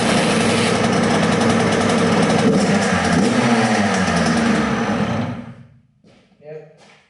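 A dirt bike engine idles steadily and loudly up close, then cuts off abruptly near the end, leaving a brief voice in the quiet.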